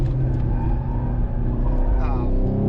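A Camaro SS 1LE with magnetic ride suspension runs hard over a race track curb, its engine a loud, steady roar throughout with a brief rough texture from the tyres on the kerb. A voice is faintly present under the engine.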